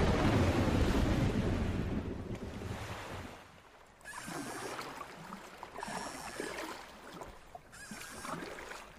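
Ocean waves crash and wash close by at sea, with a loud surge at the start that eases off, then rolling swells and gusty wind noise buffeting the microphone.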